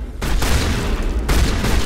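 Shotgun fire in Mass Effect Legendary Edition, two loud, heavy booming blasts in quick succession, each ringing out into a rumbling tail.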